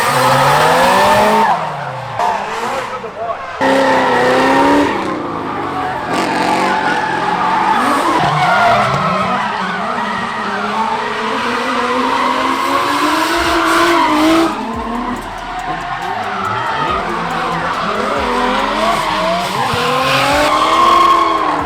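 Nissan R32 GTR with Garrett turbos drifting at Rockynats, engine howling and bouncing through rev changes amid sustained loud tire squeal, continuous and close with no pauses.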